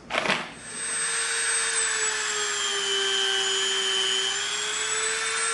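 Drill with a slightly larger bit boring into EVA foam, a brief thump at the start followed by a steady, close, high-pitched motor whine that holds evenly for several seconds.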